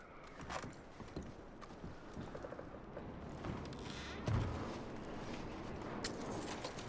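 Faint hoof clip-clops and creaking tack as horses are packed in the game Red Dead Redemption 2, scattered irregular thuds over a low ambient bed with one heavier thump midway.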